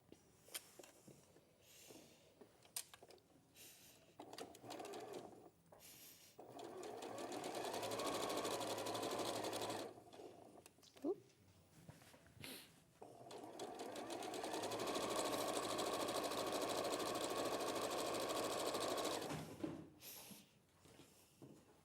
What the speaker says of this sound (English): just stitching the next one